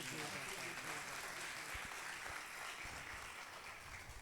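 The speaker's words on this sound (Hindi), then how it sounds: "आए खुदा के कलाम के लिए जोरदार तालियां बजाएं।" A church congregation applauds enthusiastically during a sermon. The clapping is steady and continuous but fairly quiet and distant throughout.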